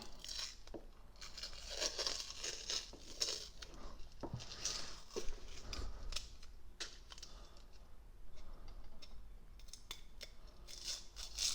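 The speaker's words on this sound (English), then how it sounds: "it should be dry enough now to take the tape off" Masking tape peeled from a glass mason jar coated in frosted paint, giving a series of close, crisp tearing and crackling strips with brief pauses between pulls.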